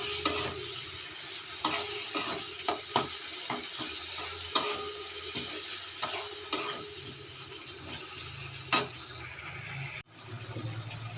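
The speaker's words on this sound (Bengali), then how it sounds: "টমেটোটা যাতে গলে যায় তার জন্য অল্প নুন দেব, দিয়ে একটু নাড়িয়ে নেব।" Tomatoes with salt are stirred in a hot pan, giving a steady sizzle punctuated by a series of distinct spoon scrapes and knocks, close and clear, ending with a sudden drop and a brief muffled rumble.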